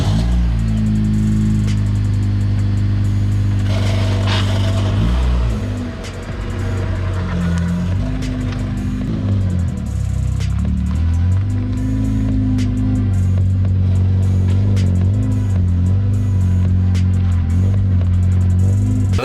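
An Acura TSX with a suspected failing throwout bearing or pressure plate runs loud and close, a sustained tonal engine drone that shifts pitch twice, dipping briefly before settling into a steady hum, with no talking.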